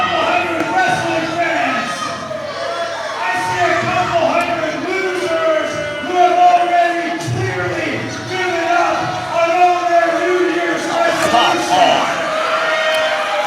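A wrestling event crowd at an Apex Wrestling show keeps up a steady murmur and scattered shouts and cheers, with commentators talking over it throughout.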